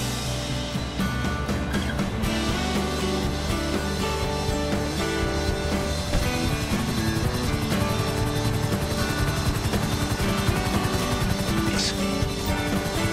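A helicopter in the video game GTA5, its rotor beating as a steady throbbing drone with engine whine, loud and sustained throughout, with music-like tonal layers underneath.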